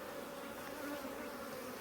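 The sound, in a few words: honey bees buzzing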